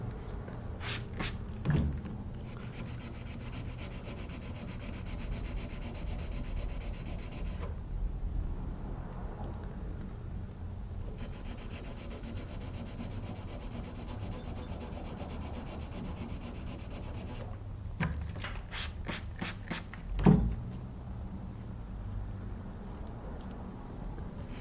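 Hand sanding a steel knife blade by hand, a quiet steady rubbing scrape in long strokes with brief pauses, plus a few louder knocks and clicks of handling.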